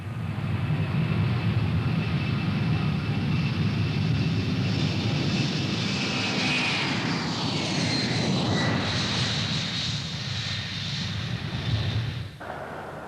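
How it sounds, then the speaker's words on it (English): Boeing 767 jet engines roar steadily at takeoff power, a loud, broad, continuous rush with a high whine that sweeps and shifts midway before the sound drops sharply near the end. "on a typical takeoff, I would advance the throttles about an inch, and the throttles would automatically adjust to the correct setting for takeoff power"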